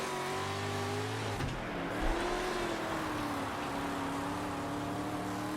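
Dirt race car in a World of Outlaws racing video game, engine droning and revving steadily at a constant loud level, with a brief dip in pitch as the car lifts and accelerates again.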